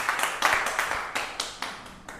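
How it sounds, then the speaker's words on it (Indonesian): Hands clapping in a classroom teaching session, a handful of separate claps spread across about two seconds, moderately close and fairly soft, with no talking. "Oke, tepuk tangan dulu untuk kita semuanya."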